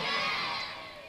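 A crowd of devotees at a Bhagavat katha in a village shouts praise loudly together. The massed voices ring out in one sustained cry that slowly fades.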